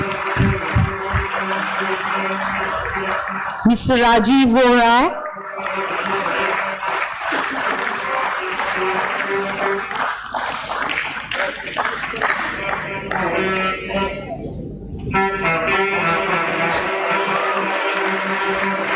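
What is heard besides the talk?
audience applauding and cheering at listing ceremony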